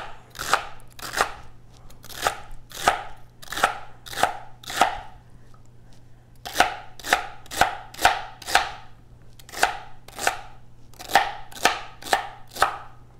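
Celery stalks being chopped with a knife on a board: a steady run of crisp, close, loud cuts in quick bursts, with a short pause partway through and no talking.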